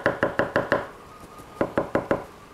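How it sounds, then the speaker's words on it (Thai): A dust bag from a cordless PUMA belt sander is being knocked to empty out fine sanding dust. Two bursts of four or five sharp, evenly spaced knocks are heard close, separated by a short pause. "เรามาดูซิว่าในตัวถุงเก็บฝุ่นเนี่ยมีฝุ่นเยอะมากน้อยแค่ไหนผมเคาะออกแล้วกันนะ"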